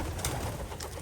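Pigeons cooing inside a loft with around sixty birds, a soft, continuous murmur of overlapping low coos close by, with no voices.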